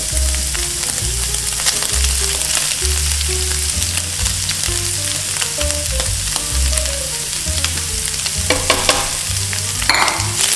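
Onion frying in a pan while a beef burrito filling is being cooked: a continuous, loud crackling sizzle with occasional stirring scrapes and a low, steady hum under it throughout.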